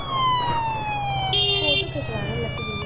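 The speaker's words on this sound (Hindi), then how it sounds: "हॉर्न बजता है इसमें, हॉर्न बजता है, बजाओ।" A Royal Enfield Bullet motorcycle sounds a siren-like electronic horn, a wailing tone that falls in pitch over the bike's low, steady thumping idle.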